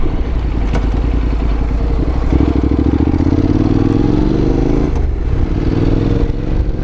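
Honda NC750X motorcycle riding along a local road, its engine a loud, steady drone with shifting pitch as it accelerates and changes gear, alone without talk.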